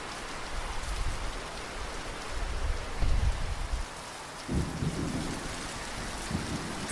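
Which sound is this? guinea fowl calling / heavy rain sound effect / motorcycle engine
heavy rain sound effect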